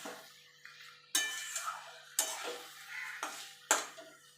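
Egg and potato curry is stirred in a pan, with four distinct bursts of spoon scraping and soft frying sizzle separated by short quiet gaps, close but fairly soft.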